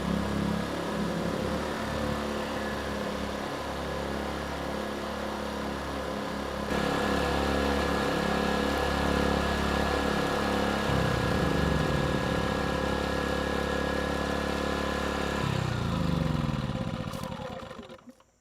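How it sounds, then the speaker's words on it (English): An Erayak 4500PD tri-fuel generator engine idles with a steady, loud drone that slightly changes pitch midway, then winds down and stops near the end. "We'll let the engines cool down,"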